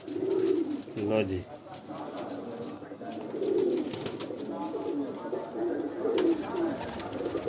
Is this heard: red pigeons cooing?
yes